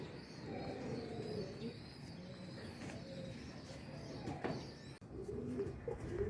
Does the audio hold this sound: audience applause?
no